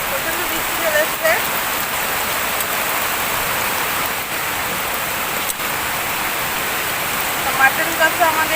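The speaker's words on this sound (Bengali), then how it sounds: "প্রচণ্ড বৃষ্টি শুরু হয়ে গিয়েছে, প্রচণ্ড বৃষ্টি চলে এসছে।" Heavy rain pours down in a steady, dense, unbroken hiss close by, with a few faint scattered ticks and patters over the roar.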